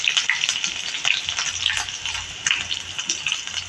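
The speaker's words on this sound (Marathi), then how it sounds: "असा खमंग तडका आपण या कोशिंबिरीवर देणार आहोत." Green chili and asafoetida tempering sizzling in hot oil for a carrot salad, a steady close crackle with brighter spits and pops throughout.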